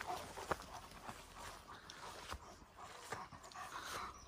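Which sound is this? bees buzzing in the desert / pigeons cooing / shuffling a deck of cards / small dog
small dog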